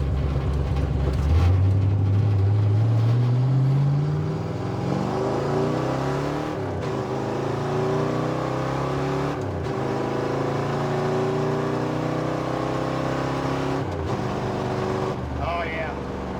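Dodge Dart V8 with a four-speed manual accelerating hard, its engine note climbing steadily and stumbling slightly as it breaks up under load, loud and close, heard from inside the car with no talk.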